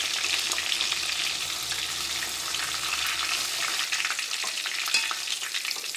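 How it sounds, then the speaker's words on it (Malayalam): Pieces of chicken fry in hot oil for a spicy capsicum chicken masala, a steady close crackling sizzle with faint stirring and no voices. "ഇനി ബാക്കിയുള്ള ചിക്കനും നമുക്ക് ഇതേപോലെ തന്നെ വറുത്തെടുക്കാം."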